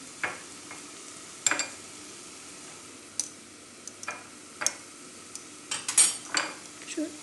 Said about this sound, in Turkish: Ve unun kokusu çıkana kadar kavuruyorum.